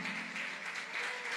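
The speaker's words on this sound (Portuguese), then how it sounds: "Vamos aplaudir Jesus." Church congregation applauding together, a steady dense wash of clapping filling the short stretch at moderate level with no voices over it.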